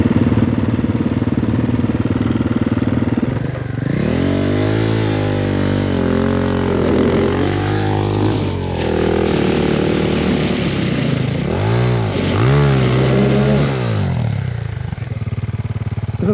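A Triumph TF250-E enduro motorcycle labours up a steep, freshly cut, barely ridden forest climb, its engine revving hard and rising and falling in pitch with repeated throttle blips, close and loud throughout with no talk.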